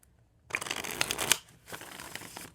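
Tarot cards being shuffled by hand, a burst of riffling and rustling that swells, pauses briefly, then continues more softly, close and alone with no talking.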